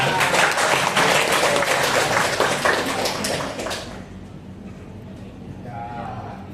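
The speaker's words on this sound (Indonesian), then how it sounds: "Oke, beri tepuk tangan dulu untuk Anissa." Classroom applause from students during a lesson, a dense wash of clapping for about four seconds that then drops away to quieter room noise.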